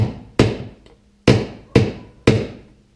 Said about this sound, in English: this 3-pound hammer was working for the first one